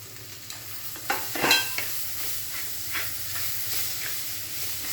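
Sliced onion sautéing with green chili, crushed garlic and ginger in a pan for beef curry, a soft steady sizzle broken by a few sharp stirring scrapes and clinks, no talking.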